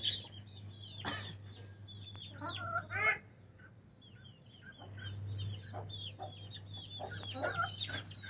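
Chickens cluck and squawk on a rooftop farm with rabbits, several scattered calls over a low steady hum, fairly faint and without talk.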